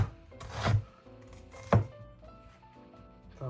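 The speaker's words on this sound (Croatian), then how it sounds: "režemo luk prvo" A knife chopping onion on a cutting board, with a few separate thunks against soft background noise and no talking.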